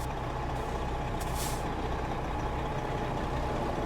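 A video game truck gives a sharp air brake hiss over a steady, loud engine and road rumble, with the hiss bursting briefly near the start.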